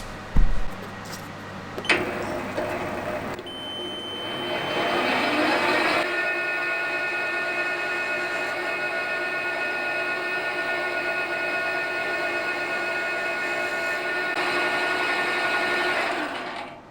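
A metal lathe cuts steadily while a centre is recut with the compound slide set at 30 degrees, for a crankshaft on a small V-twin engine. A few clunks open it, then a constant whirring hum with a faint tonal whine runs on to the end.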